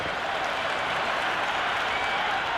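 A stadium crowd in the Cricket 26 video game roars and applauds after a six, a loud, continuous wash of clapping and cheering with no voices over it.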